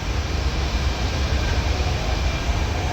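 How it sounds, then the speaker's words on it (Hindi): Delhi Metro train running on the line out of Kashmere Gate, a steady loud rumble and rolling hum that stays constant throughout without any talk. "ये गाड़ी ये जो है ये मेट्रो है, यहाँ से चली है कश्मीरी गेट से"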